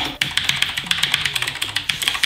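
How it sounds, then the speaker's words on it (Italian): Rapid, close clicks of typing on a Razer gaming keyboard, loud and clattering keystrokes in an uneven rhythm with no voices. "come avete sentito, effettivamente il rumore è abbastanza forte, quindi è un'ottima tastiera da gaming"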